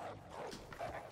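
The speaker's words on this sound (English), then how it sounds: "What the dog's doing?" Dog barking in Tomb Raider 3, a few quick, quiet yips and barks in close succession, fairly faint, with no talking.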